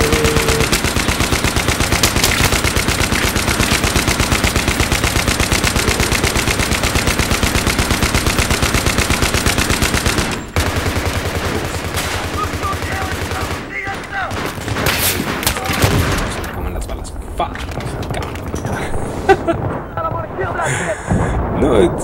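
Continuous gunfire blasts nonstop through a Battlefield 3 firefight on the Grand Bazaar map, dense and loud with overlapping shots and explosions, while someone talks over it.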